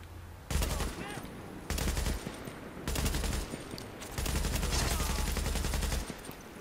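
Automatic weapon fire in The Division, heard as four loud sustained bursts of rapid shots separated by short gaps of quieter game ambience.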